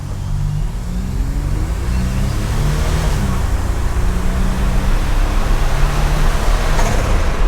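A Buick Grand National turbo car pulls hard while rolling, its engine note climbing and shifting through a steady, loud rush of road and cabin noise with no voices over it.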